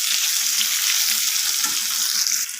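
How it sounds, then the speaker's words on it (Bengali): Potatoes with salt and turmeric fry in hot oil, giving a continuous close sizzle that stays loud and even throughout before dipping briefly at the end. "লবণ আর হলুদটাকে দিয়ে আমি আলুটাকে লালচে করে ভেজে নেব"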